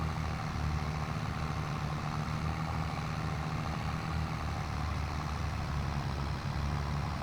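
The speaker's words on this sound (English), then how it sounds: "I'm not loving how the tractor's struggling." A tractor engine in a farming simulator labours under load while spot spraying, a constant low droning rumble with a steady hum, unchanging and close throughout.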